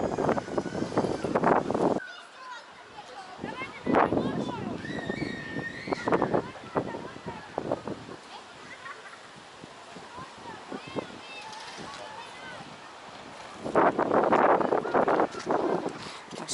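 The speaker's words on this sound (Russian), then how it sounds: "Но ветер вообще сильнейший, конечно." Strong wind gusts across the microphone outdoors in a park in Svetlogorsk, loud buffeting bursts coming and going around stretches of speech.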